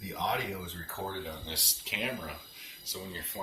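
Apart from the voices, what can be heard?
No distinct noise like a dog, phone or traffic.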